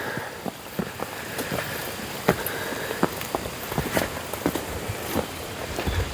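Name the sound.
rain falling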